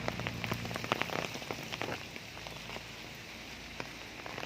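Steady rain patters on a surface in a garden with scattered drops tapping nearby, a constant soft hiss in the background and no voices.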